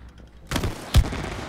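Two sharp gunshot bursts fire in the video game It Takes Two, spaced about half a second apart, the second hitting harder and deeper, followed by a low rumbling tail.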